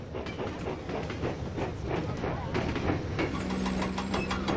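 A steam engine train chuffs steadily with a rhythmic rattling, clattering beat and a faint whistle-like tone toward the end.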